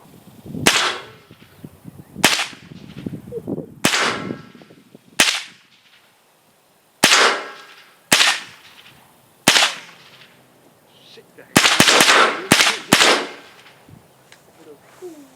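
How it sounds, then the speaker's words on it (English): Modern firearm shots fired at late medieval armor, about a dozen loud sharp cracks in irregular spacing, some in quick clusters, with bullet impacts and a ricochet off the steel. "I heard that damn thing ricochet."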